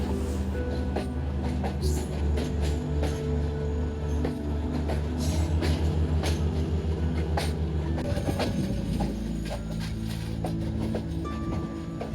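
Rangpur Express passenger train pulling slowly from a side track onto the main line after leaving a station, heard from on board as a steady low engine drone and rumble with occasional wheel clanks and no talk.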